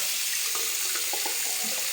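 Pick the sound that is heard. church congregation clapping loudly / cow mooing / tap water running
tap water running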